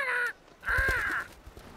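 Two loud, close caws from a cartoon crow, a harsh call then a longer, drawn-out one after a brief gap, alone with no talk.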